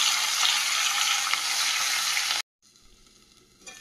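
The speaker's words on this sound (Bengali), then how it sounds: "লাস্টে মাথাটা ভাজছি, কাতলা মাছের মাথা" A catla fish head fries in hot oil with a loud, dense sizzle that cuts off abruptly, followed by a quieter, fainter crackle.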